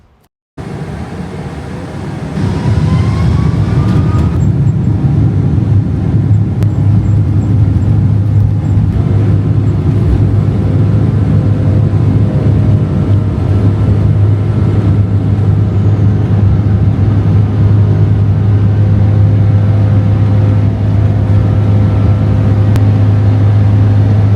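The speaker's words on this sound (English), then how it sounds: "Anyway, here's the takeoff." Cathay Pacific airliner on its takeoff roll from Hong Kong bound for Jakarta, a loud, steady deep engine roar and cabin rumble swelling after a brief quiet start and holding constant throughout.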